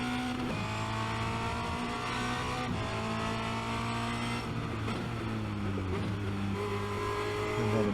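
A Formula Renault 2.0 race car engine on the Spa-Francorchamps circuit, loud and close in-car, with steady high revs shifting pitch through gear changes and lifts, a sustained buzzing drone from start to finish.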